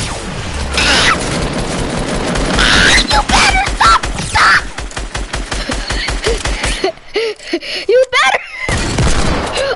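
Rapid Desert Eagle pistol shots in a video game crack out in dense bursts and steady volleys, loud and close, while excited voices shout over the gunfire.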